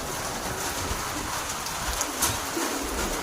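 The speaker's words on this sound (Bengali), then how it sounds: "আবার জোরে বৃষ্টি এসছে," Heavy rain pouring steadily and loudly on surfaces, a dense unbroken roar with stormy wind, no voices.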